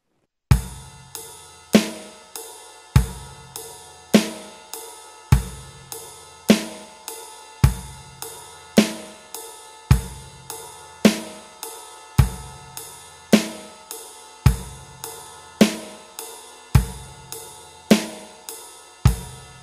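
Steady rock beat on snare drum and ride cymbal, sharp regular snare cracks with a ringing ride wash between them, close and loud, repeating evenly for many bars without voices.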